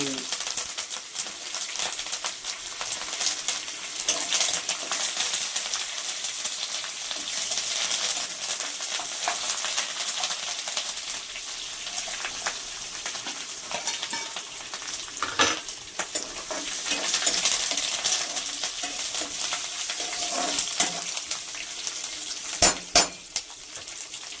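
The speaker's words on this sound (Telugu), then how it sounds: "ఇప్పుడు చూడు పేలుతుంది కరివేపాకు" Curry leaves spluttering and crackling in hot oil in a home kitchen while okra and beetroot fry are being made, a steady dense sizzle with sharp pops near the end, close and loud.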